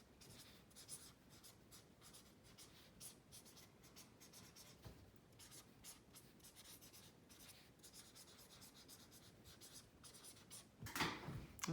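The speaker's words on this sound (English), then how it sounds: "So let me write that down." Faint pen or pencil strokes scratch across paper during a math lesson, a steady run of short scribbling strokes with soft pauses and a brief rubbing sound near the end.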